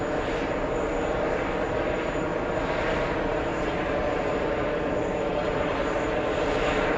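A JetBlue Airbus A321 XLR airliner roars steadily nearby, its broadband engine rumble holding loud and even for the whole stretch with no voices over it.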